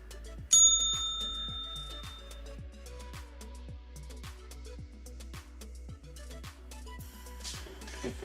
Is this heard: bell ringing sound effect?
yes